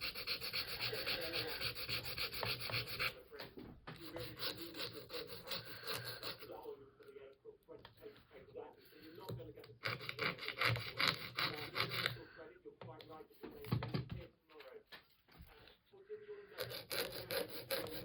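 An overly long acrylic nail is filed down with close, rapid rasping strokes that run steadily, then break into shorter bursts with a few brief pauses.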